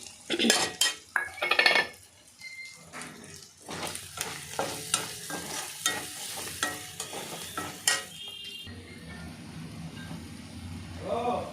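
Green chilies tossed into a hot frying pan and stirred with a metal utensil, giving clattering scrapes and clinks against the pan over a soft sizzle, followed by a steadier frying hiss near the end.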